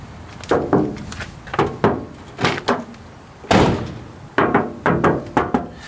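A series of hollow knocks and thuds on a Toyota Troopy's front door panel before sound deadening, struck in short clusters of two or three, close and fairly loud.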